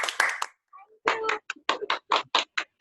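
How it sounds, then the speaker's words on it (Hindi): A small audience at a talk on Jain law claps for a student, a handful of sharp separate claps in an uneven rhythm, near and fairly loud, with a voice speaking at the start. "एक बार जोरदार तालियां किंजल के लिए।"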